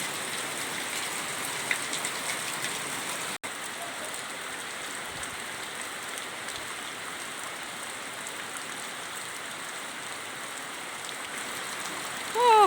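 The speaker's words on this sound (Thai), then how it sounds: "ฝนตก" Steady rain falling continuously, a dense even hiss of drops on surfaces with no voices.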